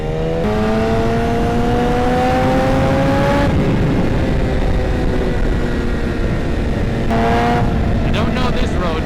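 A stretched BMW S1000RR sport bike rides loud and close along curvy roads, its engine note rising in steady pitch climbs, easing off around the midpoint, then revving up sharply again, with heavy wind rush throughout.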